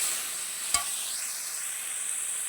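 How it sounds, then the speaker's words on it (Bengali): Spices with turmeric and chili powder sautéing in a pan with a splash of water for a meat curry, a steady hissing sizzle broken by a single sharp spatula knock, no speech. "দিয়ে মশলাটাকে ভালো করে কষিয়ে নেব"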